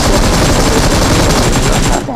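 A loud, continuous burst of rapid automatic gunfire rattles through a BGMI match, dense evenly paced shots running without pause for about two seconds before cutting off.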